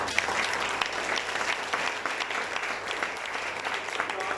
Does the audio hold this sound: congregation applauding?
yes